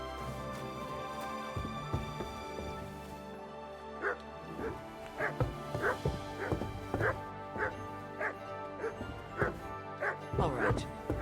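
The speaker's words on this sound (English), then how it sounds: "Sit and bark." A dog barks and yips in the video game Kingdom Come: Deliverance II, a run of sharp close barks over a steady in-game music and ambience bed, with someone speaking.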